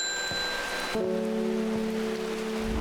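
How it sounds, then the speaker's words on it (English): Rain ambience from the video game Strange Horticulture, a steady soft hiss of falling rain with faint tonal game music layered beneath, even and continuous throughout. "Does it ever stop raining in Undermar?"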